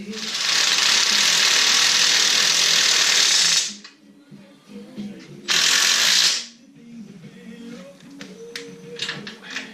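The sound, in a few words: ratchet backing out a bolt on a Can-Am Renegade ATV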